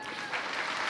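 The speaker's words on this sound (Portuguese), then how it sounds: "Por favor, aplausos." A literary café audience at the Rio book fair, the Bienal do Livro, applauds author Ruth Rocha as she is called to the stage, a dense, steady wash of clapping heard alone.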